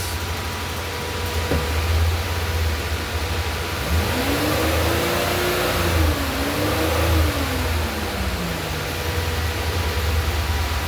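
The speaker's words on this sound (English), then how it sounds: "I'm going to try to go wide open throttle." A car engine in limp mode revs under wide open throttle, pitch sweeping up and holding, wavering and then falling back over a steady idle drone, loud and close with no talk.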